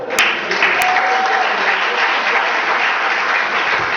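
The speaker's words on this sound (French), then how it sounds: "que je vous demande d'applaudir très fort" Loud, dense audience applause fills a dance evening, welcoming a performing couple with a steady, unbroken roar of many hands clapping for the full stretch.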